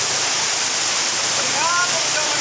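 Than Thong waterfall at Ban Nam Lat in Khiri Rat Nikhom, Surat Thani, roars with a loud, steady rush of falling water, and a faint voice briefly rises over it.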